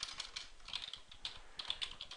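Quick keystrokes on a computer keyboard typing a file name, with clusters of close, crisp clicks in uneven bursts and no talking.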